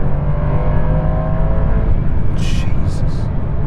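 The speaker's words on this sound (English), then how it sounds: "The kickdown is definitely better than on the old Turbo S." A Porsche 911 Turbo S pulls hard after a kickdown, its engine rising in a loud, steady surge with rushing road noise, while a voice talks over it.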